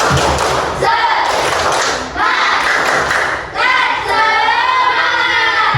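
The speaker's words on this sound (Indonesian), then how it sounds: "sekarang ibu mau tes semangat kalian dulu nih. Tepuk semangat." A class claps out the rhythmic tepuk semangat chant, with bursts of sharp claps and thumps broken by brief pauses, while voices chant and call along between the beats.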